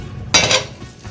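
A coconut egg omelette mixture hits a hot tawa with a short bright sizzling splash and a faint utensil clink, then quiets to a low hiss.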